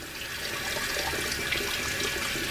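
Steady broadband hiss of tap water running onto a hand at a bathroom sink during a face-washing routine, close and continuous with no pauses. No one speaks.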